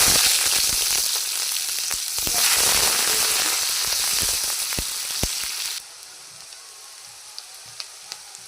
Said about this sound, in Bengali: তারপর দিচ্ছি পেঁয়াজ কুচি।